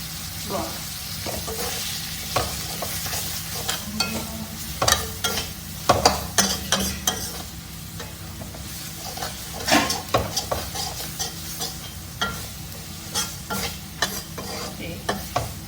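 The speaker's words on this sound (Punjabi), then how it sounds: "ਅਦਰਕ ਥੋੜਾ ਜਿਹਾ ਇਹ ਵੀ ਭੁੰਨਣ ਦੇਣਾ ਚਾਹੀਦਾ ਇੱਕ ਚਮਚਾ ਹਲਦੀ ਦਾ" Ginger and turmeric frying in a pan while being stirred, a steady sizzle under irregular scraping and knocking of the spoon against the pan, close and fairly loud.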